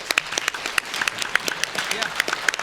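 A modest audience at a BronyCon 2015 panel of pony developers and coders applauds at the end, sparse, distinct hand claps with a quieter crowd behind, fairly faint, voices murmuring underneath.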